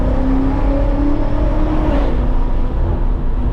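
A BMW F90 M5 Competition engine pulls hard under throttle, a steady loud interior roar with a slight rise in pitch over a few seconds.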